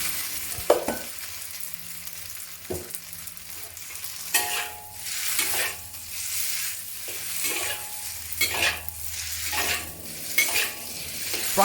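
Fresh Thai rice noodles for Rad Na being stir-fried in oil over medium to high heat, giving a steady sizzle broken by repeated scraping strokes of a utensil against the pan, with no talk.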